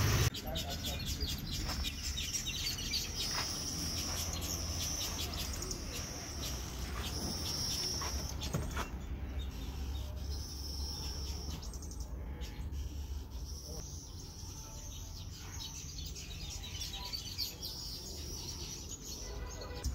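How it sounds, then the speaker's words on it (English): Birds chirping and singing outdoors, high calls layered over a constant buzz of crickets, with no talking. "I really enjoy these birds up there"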